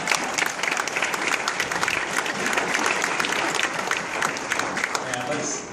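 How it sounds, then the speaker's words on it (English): A room full of people at a city council meeting claps steadily in a dense, sustained round of applause, loud and close throughout. "we'll use that time to give Mayor Pat Burt a round of applause for producing the chairs in less than 10 minutes"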